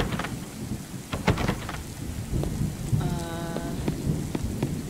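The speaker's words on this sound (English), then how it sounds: "That rain is loud as crap." Loud rain pours in the horror video game Kidnapped, a dense steady hiss with sharp cracks and low rumbles of thunder and a brief tonal sound partway through, with no talking.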